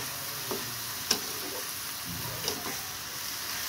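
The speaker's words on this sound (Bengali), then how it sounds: "আস্তে আস্তে কিন্তু ভাজাটা হয়ে যাচ্ছে" Potatoes and red amaranth greens frying in a pan, with a continuous close sizzle broken by a few sharp clinks and scrapes from stirring.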